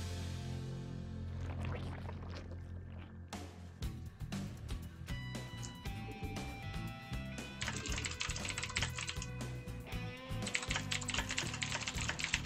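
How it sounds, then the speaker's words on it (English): Rapid keystrokes on a computer keyboard while typing in a stream chat during a StarCraft II WCS EU Qualifiers broadcast, with dense clicking blended into steady, loud game music and effects. "Sorry, just type in the chat here"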